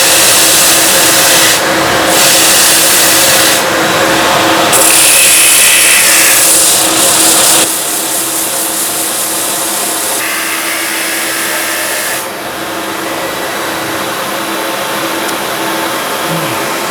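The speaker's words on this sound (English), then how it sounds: "So let's get the extractor fired up." A dust extractor runs steadily in a woodturning workshop where a large salad bowl is being turned, a continuous loud broadband roar with shifting hiss levels throughout and no talking over it.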